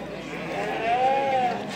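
A single bleat, likely from an Urfa goat or a Merino lamb, rises and falls over a busy livestock market's low background murmur, fairly close and moderately loud.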